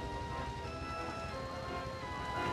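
Steady rain patters in Roller Coaster Tycoon, a dense, even wash of droplets that runs without a break for the whole moment, with no voices over it.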